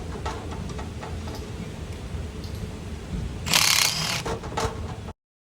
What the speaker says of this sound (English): I have an impact with a 3/16 Allen head. And we are going to take the bolts off of the billet back converter.